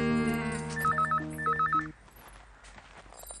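An indoor home telephone rings loudly with a warbling electronic ringtone in two quick bursts, then cuts off into quiet room sound.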